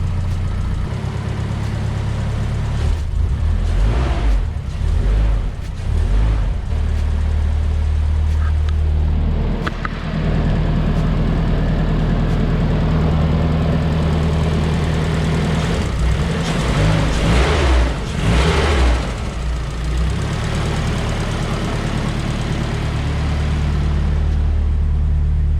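A Nissan SR20DET engine idles low and steady, a continuous deep hum running alone throughout with slight fluctuations in tone.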